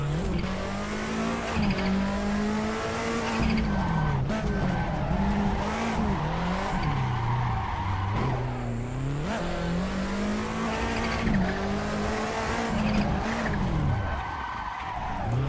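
A car in a VR drifting game revs hard and skids continuously, its engine note rising and falling over sustained loud tire squeal throughout, close and dominant with no talk.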